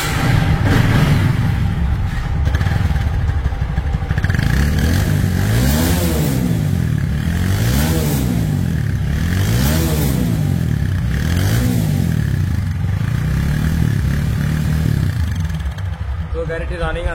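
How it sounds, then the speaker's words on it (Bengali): A vehicle engine revs up and down repeatedly in strong rising-and-falling sweeps, loud and close, with a steady mechanical clatter underneath. "তো এই গাড়িটির সাউন্ড শুনবো এখন, আপনাদেরকে এখন সাউন্ড শোনাবো"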